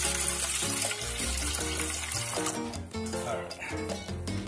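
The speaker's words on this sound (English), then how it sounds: "this one I'm gonna add some water" Water poured into a cooking pot of frog adobo with sugar and ketchup, a steady splashing flow running throughout at close range, with faint background sounds.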